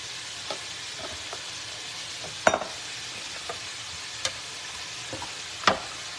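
Ground beef frying in a pan for nachos, a steady close sizzle throughout, with a few sharp scrapes and clicks as a utensil stirs the meat.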